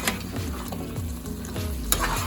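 Aloo gosht ingredients frying in a small amount of oil in a pan, a steady loud sizzle broken by several sharp stirring scrapes at roughly even intervals, close by with no talk.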